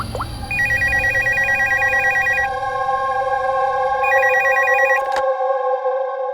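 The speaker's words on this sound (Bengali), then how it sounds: "স্যার, স্টোর ম্যানেজারকে ফোন করছি।" A telephone rings on an outgoing call with repeated electronic ring tones in two bursts. They are loud and close over a sustained tonal background, and the sound ends abruptly.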